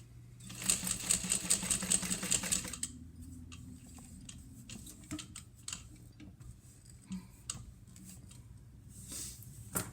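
A sewing machine stitches a 1/8 inch seam allowance in a quick, even burst of rapid mechanical ticking, then falls quiet apart from scattered clicks and fabric handling.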